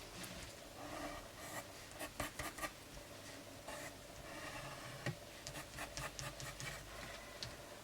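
Scissors cut paper for an origami surprise box, giving faint, close, irregular snips and rustles over a quiet background.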